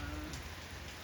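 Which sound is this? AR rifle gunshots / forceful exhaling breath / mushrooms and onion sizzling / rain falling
rain falling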